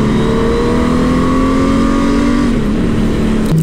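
Honda Transalp 750 motorcycle accelerating on a race circuit, a loud close engine whine climbing steadily in pitch before a quick gear change, alone with no talk.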